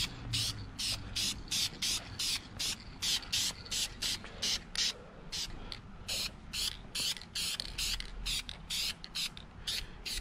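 Bursts of aerosol spray paint hiss in short, repeated passes over a Ford F150 tow hook on a supercharged truck, laying down a light coat with brief pauses between sprays.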